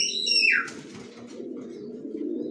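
Young racer pigeons give a brief descending chirp, followed by a soft, continuous low cooing and rustling, close by with no voices.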